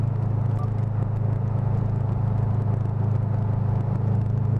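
Steady low engine rumble from a Subaru WRX STI held at constant throttle in Sport Sharp mode, heard from inside the car with a faint rattle, continuous and even with no speech.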